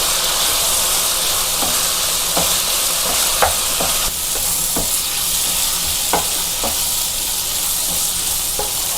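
Scrambled eggs stirred into bubbling chilli sauce for Indo-Chinese egg chilli: a steady loud sizzle and hiss with scattered spatula scrapes and knocks against the pan.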